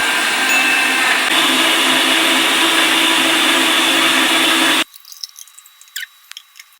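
A blender whirs steadily and loudly as it blends grated carrots with ice cubes and water, a constant motor roar that cuts off abruptly, followed by faint clinks and handling noises.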